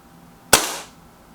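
A single sharp crack from a BSA Defiant air rifle firing, close and loud, with a short decaying tail and quiet before and after.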